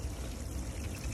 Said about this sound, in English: I'm just going to pour this bleach water over the urchin spines.